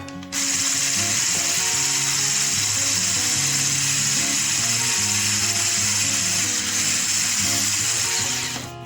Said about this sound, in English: I'm just gonna whisk this together.